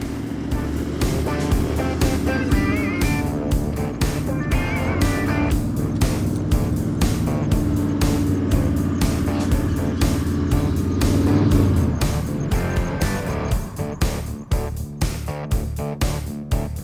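4WD vehicle climbing sand dunes on the Canning Stock Route, engine revving and straining in surges with rising and falling pitch, loud and near, with knocks and bumps near the end.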